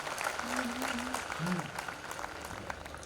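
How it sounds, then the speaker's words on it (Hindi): Faint applause from a crowd at a Hindi poetry recital, soft scattered clapping running throughout, with a voice briefly heard over it. "एक बार तालियां बजा दो"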